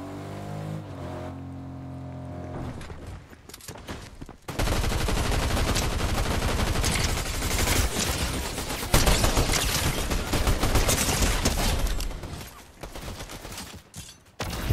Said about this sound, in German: Oh, Schüsse.